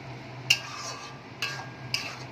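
A spoon scrapes and taps against a pan three times while cabbage curry is stirred, with soft clinks over a faint background hum.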